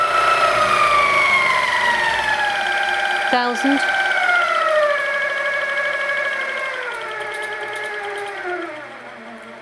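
A Simply Sixteen longarm quilting machine running with a rising mechanical whine that shifts pitch as its speed changes, with a short voice breaking in midway and the hum fading lower toward the end.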